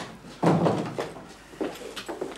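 An interior door swings shut with a firm thud, followed by softer knocks and handling noises nearby, with no talking over it.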